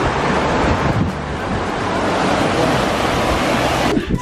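Fast-flowing lake water rushing through a channel near Marine Lake in Banff, a steady, loud broadband roar that runs unbroken throughout, with some wind buffeting the microphone.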